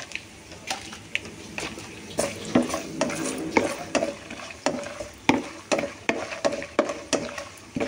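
Urad dal, mustard seeds, cumin and two dried chillies are tempered in hot oil in a pan: a steady sizzle with repeated scraping stirs and clinks of a utensil against the pan, close and fairly loud.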